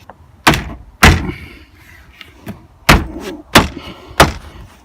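A door card is pushed and clipped back onto a Fiat Punto Grande door. About six loud, sharp thumps land at irregular intervals, close up, with quieter rustling between them.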